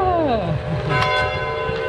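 A church tower bell at Hung Nghia church in Nam Dinh rings the hour, its long resonant strike decaying slowly with rich overtones, loud and fairly close, alone without talk.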